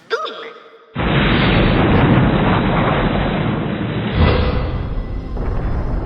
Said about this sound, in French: Vous avez vu ça? Des explosions.